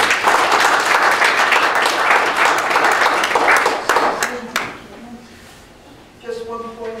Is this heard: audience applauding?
yes